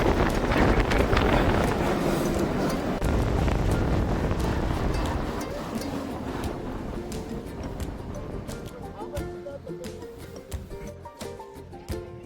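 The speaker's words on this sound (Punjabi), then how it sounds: "ਠੰਡੀ ਠੰਡੀ ਹਵਾ ਚੱਲ ਰਹੀ ਹੈ" A cool wind blows at Shanti Stupa in Leh, buffeting the microphone in loud, rough gusts that ease off in the second half, with faint sounds of people in the background.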